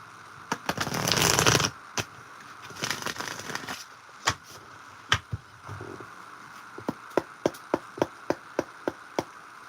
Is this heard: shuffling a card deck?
yes